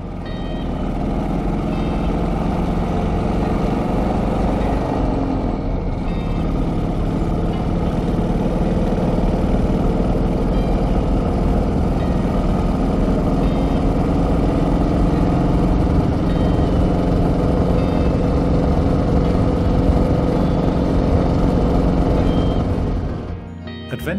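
Old Panther classic British motorcycle, a single-cylinder adventure bike, running with a steady, loud, continuous engine drone for most of the stretch, briefly dipping before cutting off at the end, with no talk.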